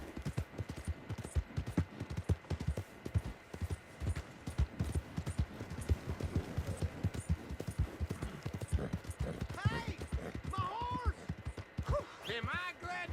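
Horse hooves clip-clop in steady rhythm across Red Dead Redemption 2's game world, moderately close and continuous, with brief horse snorts and bird-like chirps emerging toward the end.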